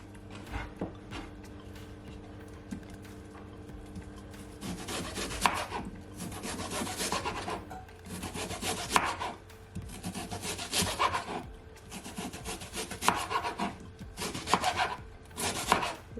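A knife slicing a medium onion on a board, a steady run of close, rasping cuts in repeated bursts at an uneven rhythm, with no voices.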